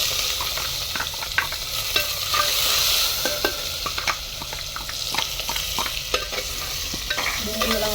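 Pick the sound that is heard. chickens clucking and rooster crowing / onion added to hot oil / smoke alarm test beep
onion added to hot oil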